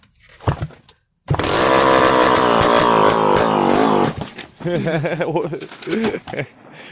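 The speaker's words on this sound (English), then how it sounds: "Kick the two-stroke real quick. See what it sounds like." A KTM dirt bike fitted with a 4-stroke engine that sounds like a two-stroke is kick-started and roars into a loud, buzzing, high-revving run, then drops to a choppy idle, with brief voices around it.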